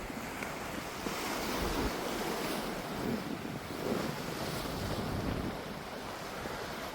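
Strong wind buffets the microphone at the seashore, with surf roaring underneath in a steady, loud rush that swells and eases.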